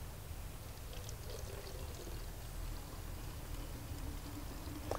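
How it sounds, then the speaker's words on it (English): Water is poured steadily into a bottle holding lavender flowers, a continuous close splashing gurgle with no talk. "So the next thing I do is add some water to it."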